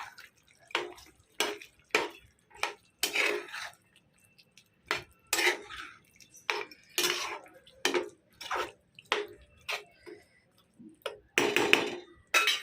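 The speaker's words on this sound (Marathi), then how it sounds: "आणि थोडीशी हलवून घेऊया." A spoon stirs Kolhapuri sukka mutton in a metal pot, making a long series of distinct scraping clinks in an irregular rhythm, close and moderately quiet, with no talking.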